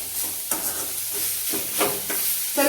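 Leafy greens for soppu palya fry in a pan with a constant crackling sizzle, broken by repeated scraping strokes of a spoon stirring them around, close up and with no speech.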